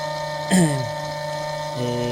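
A HERMEX DUP-410 key duplicating machine runs with a steady mechanical whir while cutting a TOV7 dimple key, with one brief, louder clack partway through.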